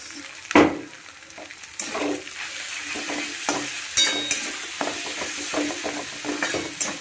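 Egg and onion fry in a pan alongside two-minute Maggi noodles, a close sizzle with repeated scraping and stirring strokes of a spatula against the pan, no voices.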